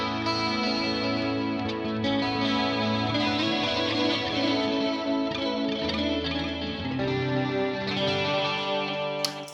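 Guitar run through a chorus effect on a Quad Cortex preset plays sustained, shimmering chords with a warbling pitch modulation, dense and continuous at steady loudness throughout, with no voice present.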